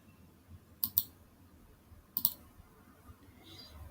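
Two pairs of sharp computer mouse clicks, spaced about a second apart, sound close and crisp over a quiet background while navigating a point-and-click online game.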